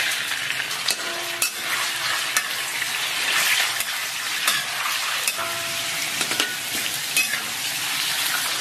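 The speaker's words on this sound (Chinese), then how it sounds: "咱把切好的五花下到锅中" Pork belly slices fry in lightly heated oil in a wok, a steady close sizzle and crackle running throughout with occasional scrapes and clinks of a utensil against the pan.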